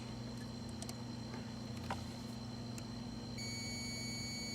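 A multimeter continuity test on a refrigerator timer thermostat sounds a thin, steady high electronic tone that comes on near the end, over a constant low electrical hum.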